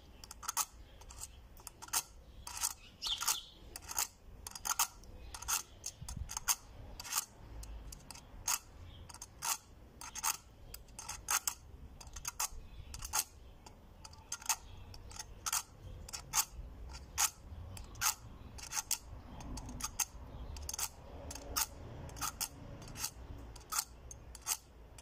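Pliers being sharpened by rubbing their jaws on a lighter's flint cylinder, a steady series of short, crisp scraping strokes repeating quickly and evenly, close and fairly quiet, with no talking.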